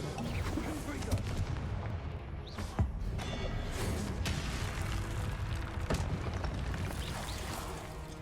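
Fiery Confringo blast spells in Hogwarts Legacy, a run of booming thuds and crackling bursts over loud game noise, repeated several times in close succession.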